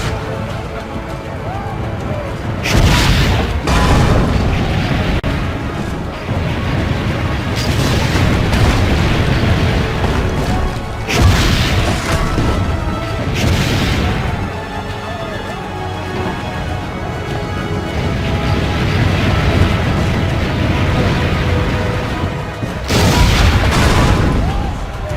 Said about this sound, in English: Load the cannon.